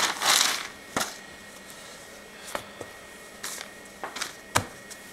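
A package is cut open with scissors: a burst of plastic rustling, then a few sharp, spaced snips and crinkles.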